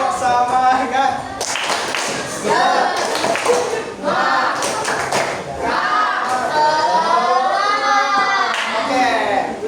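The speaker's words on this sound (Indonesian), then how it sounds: "Ayo, tepuk semangat dulu." A junior high school class performs a rhythmic spirit clap, sharp bursts of hand claps mixed with loud children's voices chanting and calling out together in the classroom.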